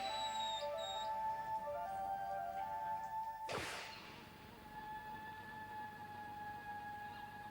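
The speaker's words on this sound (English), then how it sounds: "I actually think we're the only ones that have ever recorded golden lion tamarin" Golden lion tamarin calls recorded in the field: thin, high whistled tones held in steady lines, then a sharp downward sweep, under a constant faint hiss.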